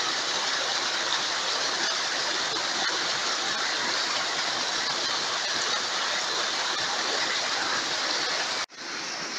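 Water rushing out of the Miolène karst spring makes a constant, dense roar of flowing water, loud and close, with no variation until it cuts off abruptly near the end.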